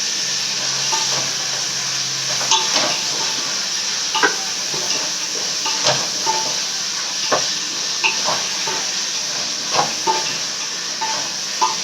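Brinjal pieces stir-fried in a pan while making paneer biryani with seeraga samba rice, a steady close sizzle and hiss with scattered scraping and clinking stirring strokes throughout, no voices.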